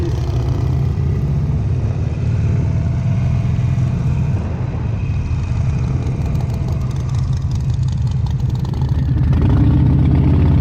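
Harley-Davidson Fat Bob motorcycle fitted with a Screaming Eagle 117 V-twin, a loud, steady low rumble of the engine running continuously up close, with a slight swell toward the end.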